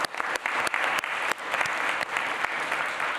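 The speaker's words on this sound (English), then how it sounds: "So I'd like to give all of you a round of applause" A business conference audience applauds, with loud sustained clapping from a large crowd throughout and no voices over it.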